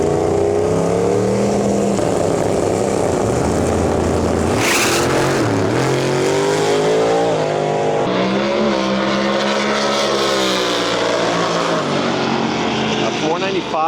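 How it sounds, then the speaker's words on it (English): A nitrous-fed G-Body Malibu drag car launches and roars down the strip in an X275 trim race at a drag racing event in Canada. It gives a loud sustained engine howl, with pitch sweeping up through the gears, and a race commentator talks throughout. "We've got the G-Body Malibu, the nitrous car, far side here"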